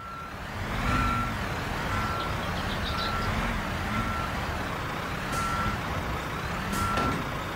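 Steady reversing beeps from a truck backing up in the video game Construction Simulator 2022, evenly spaced single tones repeating about once a second over a low rumbling diesel engine, with faint clanks in the background.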